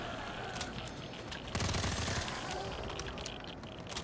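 AUG rifle firing rapid bursts in a Call of Duty custom zombies map, the crackling automatic gunfire sustained and loud, with a heavier stretch partway through and players' voices mixed in.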